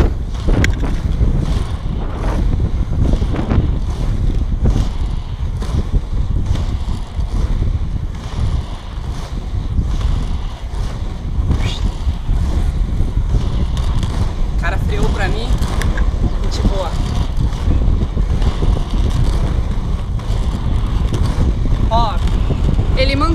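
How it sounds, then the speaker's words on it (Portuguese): Heavy, constant wind buffets the microphone while someone roller skates on three-wheel skates along a city avenue against the wind, with a voice heard at times. "eu tô contra o vento"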